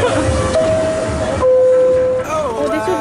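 A New York City subway train rides along with a loud rumbling roar and a steady high motor whine that shifts in pitch as it runs, heard from inside the car.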